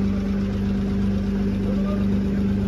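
A generator runs near a Nashik band's sound-check vehicle, a steady droning hum with a strong low tonal buzz, constant and close throughout with no variation.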